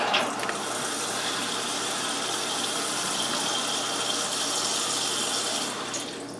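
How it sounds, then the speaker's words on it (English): Tap water gushing steadily into a pot holding a chicken neck for stock, a close, continuous pouring rush that holds for several seconds before easing off near the end. "put in just enough water to cover the chicken neck"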